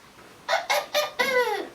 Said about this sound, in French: Le coq s'est levé le premier. Il chante et réveille tout le monde.